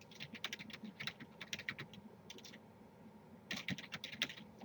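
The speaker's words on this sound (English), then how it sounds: "type in a password" Quick bursts of keystrokes on a computer keyboard as a password is entered, close and fairly quiet, with a pause between two runs of typing and no voice.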